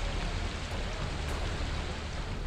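Heavy monsoon rain pours onto flooded streets in Ghaziabad's Loni area, a dense, steady hiss of rainfall that stays even and continuous throughout, with no voices.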